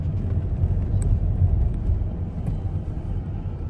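A car accelerating onto the motorway after the toll plaza, heard from inside as a steady low road rumble and engine drone with a faint hiss, continuous and fairly loud, with no talk.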